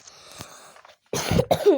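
A sick man coughs in two harsh, close bursts after a few quieter throat sounds, loud and raspy with no talk around them.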